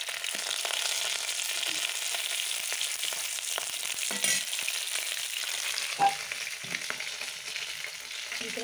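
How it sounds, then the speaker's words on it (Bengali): Rui fish frying in hot oil in a village kitchen, a steady close crackling sizzle running throughout with a few sharper pops and spatters. "বেশ লাল লাল করে মাছ ভাজা"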